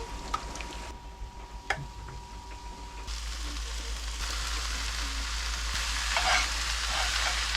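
Meat browns in a pan while being stirred, starting as quiet scraping and clicks, then a steady sizzle that swells louder and fuller through the second half, heard alone without talk.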